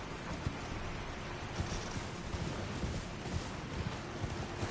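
A horse's hooves clip-clop softly while riding in Elden Ring, a faint, steady run of muffled footfalls under light wind-like ambience, with no talking.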